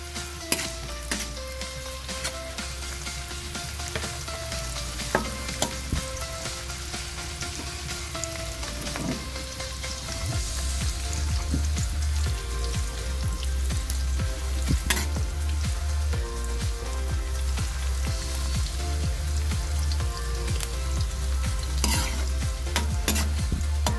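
Onions and bay leaf sautéing in a pan, with a continuous crackling sizzle and frequent sharp scrapes and taps of a spatula stirring. The sizzle thickens and grows louder about halfway through.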